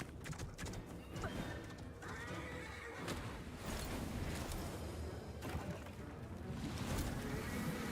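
A horse whinnies loudly among clattering hoofbeats and busy game noise in Lords of the Fallen, the neighs repeating over a dense, continuous background.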